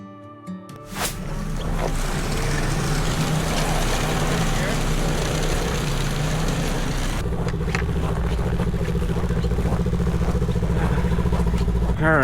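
A snowmobile engine warming up at idle in Lapland, Finland, a loud continuous rumble close by, with a brief knock at the start and people talking over it.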